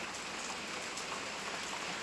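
Steady monsoon rain falls on a village, a continuous even hiss of drops on surfaces with no other sounds.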